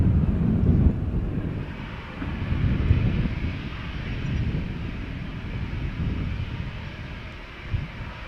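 A KLM passenger jet departs Amsterdam Schiphol Airport with a loud, continuous low roar and heavy wind buffeting on the microphone, steady throughout.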